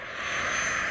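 A radio-controlled model airplane engine drones steadily in flight, a continuous buzzing whine holding level and fairly loud with no talking.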